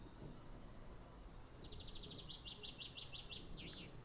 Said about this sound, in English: Why are there birds all of a sudden?